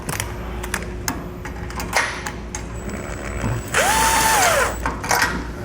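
Bolt being tightened on a Dutton-Lainson boat trailer jack with wheel, with a series of sharp ratcheting clicks and metallic clanks, a short whirring burst near the end, and no talk.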